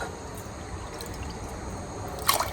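Water is poured onto rice in a pot for chicken biriyani, giving a steady splashing trickle that runs continuously and close, with a brief brighter splash near the end.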